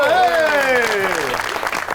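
Studio audience on the Pakistani TV show Tanz o Maza applauds to welcome a singer, a steady wash of clapping with a gliding tonal voice or music riding over it for two seconds.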